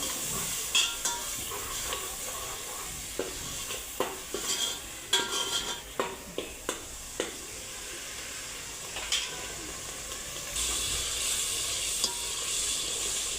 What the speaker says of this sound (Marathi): चांगला मसाला तळू द्यायचा तेल सुटेपर्यंत.